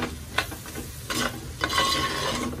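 Chili powder and turmeric fry in oil with a close, steady sizzle, punctuated by three or four scraping strokes as the spices are stirred through.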